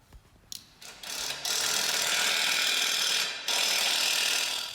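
A ratchet wrench clicks rapidly and continuously while turning bolts on lawn mower blades, close and loud, with a brief pause between the runs of clicking.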